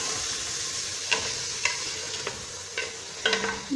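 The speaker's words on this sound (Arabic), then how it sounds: "نخليهم يتقلاو مليح" Ingredients frying in a pan for a homemade tajine, a steady sizzle with several sharp stirring scrapes spaced through it.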